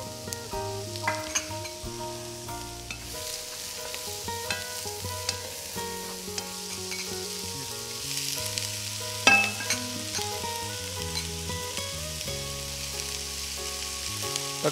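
Onion and garlic sauté in a K-Art silver nano marble pot, a soft steady sizzle with occasional light clicks, partly buried under melodic background music.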